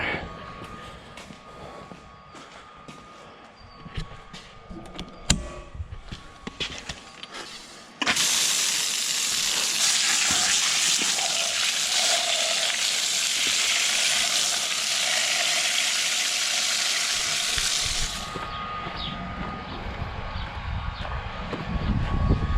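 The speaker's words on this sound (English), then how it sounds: "I'm up here by a barn that has a hydrant, so I'm gonna wash the screen filter out." Water gushes steadily from a barn hydrant onto a planter's screen filter during corn planting, a loud broadband spray that starts abruptly, runs about ten seconds and cuts off, framed by quieter outdoor handling noise.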